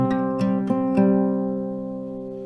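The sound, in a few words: A minor chord strummed on acoustic guitar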